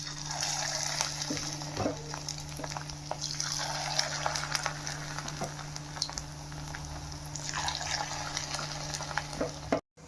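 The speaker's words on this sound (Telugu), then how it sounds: "ఆయిల్ బాగా వేడైన తర్వాత దీంట్లో చిట్టి చిట్టి పునుగుల కింద వేసుకుందాం" Rice-flour punugulu batter dropped into hot oil in a kadai, frying with a steady broadband sizzle and crackle throughout, close and fairly loud, with a few brief clinks and stirring touches, no voices.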